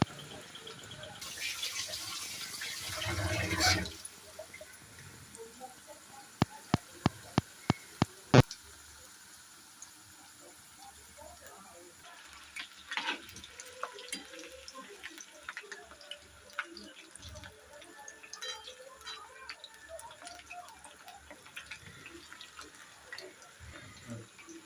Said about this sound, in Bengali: এটা আস্তে আস্তে ভাজতে হবে।